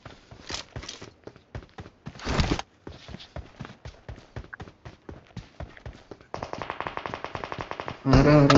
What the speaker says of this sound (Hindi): सी बिल्डिंग से मेरे पे ही फायर कर रहे होते हैं